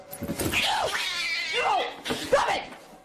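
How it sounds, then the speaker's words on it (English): An angry house cat yowls and snarls in several drawn-out, rising and falling cries as it attacks, with scuffling and other noise between the calls, loud and close throughout. "The angry, hissing animal descends upon her within seconds."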